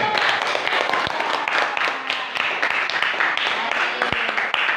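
Students in a classroom applaud a presenting group, a continuous wash of clapping from many hands at steady loudness, with a couple of sharper single claps standing out.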